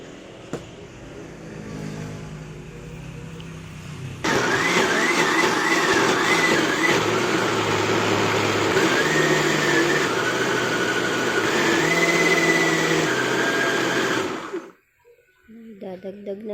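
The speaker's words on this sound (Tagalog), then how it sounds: "So yan, blender na tayo." A blender motor whirs steadily at close range for about ten seconds while blending mulberry jam, its pitch shifting slightly, then cuts off; a voice talks briefly before and after.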